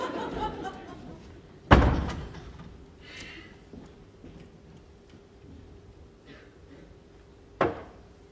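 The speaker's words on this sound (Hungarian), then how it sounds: "Ajtó." A door slams hard twice, a sharp loud bang early on and another near the end, inside a room during a stage play, with faint ticking and quiet shuffling in between.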